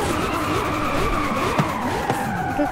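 A car skids in the video game Forza Horizon 5, with tires squealing in wavering loud screeches over a constant engine drone, alone for under three seconds.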